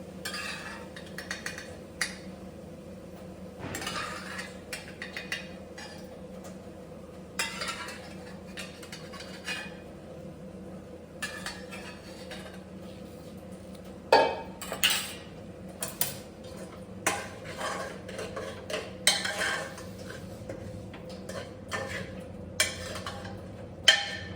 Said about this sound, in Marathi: पूर्ण फुलगोबी त्या मसाल्यामध्ये टाकायची आहे.